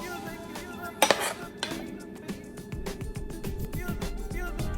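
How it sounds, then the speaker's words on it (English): A spoon clinks against a plate and pan while sauce is served over pasta for chicken piccata, light metallic taps and scrapes, a couple of sharper clinks early on, under low kitchen background. "I'm gonna use a spoon to spoon that in."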